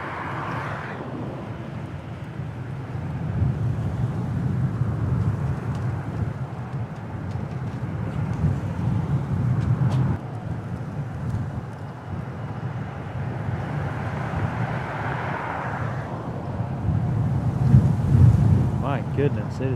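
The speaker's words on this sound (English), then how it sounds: "it is extremely windy" Strong wind buffeting a sock-covered microphone outdoors beside a road, a loud continuous low rumble with gusts swelling and easing throughout, with no talk.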